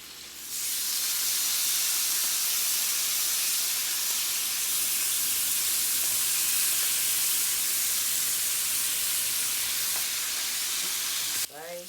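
Chicken breasts sizzle steadily on a grill for slider sandwiches, a dense continuous hiss of fat and juices, close and even throughout with no talking, cutting off briefly at the very end.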